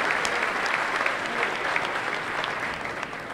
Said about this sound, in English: So please give yourselves a huge round of applause.